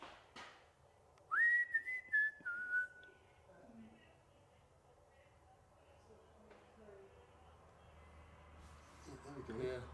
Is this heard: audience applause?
no